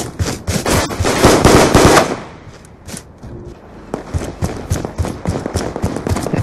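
Rapid automatic gunfire in a video game rattles loudly in dense bursts, pauses briefly, then resumes as scattered shots and quick volleys.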